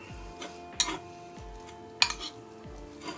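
Spoon stirring eggs and melting dairy-free cheese in a hot bowl, a few scraping and clinking strokes against the bowl with two sharper knocks, quiet and close with no talking.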